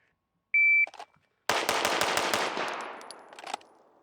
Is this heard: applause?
no